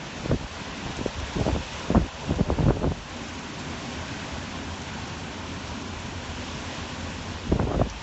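Strong hurricane winds of Hurricane Maria over Martinique, near a concrete shoreline, gust against the microphone in short rough bursts over a steady roar, with quieter stretches between the gusts.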